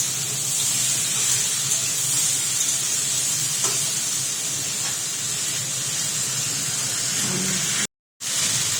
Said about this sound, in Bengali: বটবটি দেওয়ার পরে এইবার এটা ভালো করে একটু ভাজতে দিতে হবে